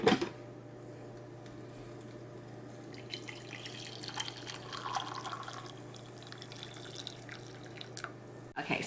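A drip coffee maker brewing Cafe Bustelo trickles and drips softly nearby over a low steady hum, with faint gurgling toward the end and no voices.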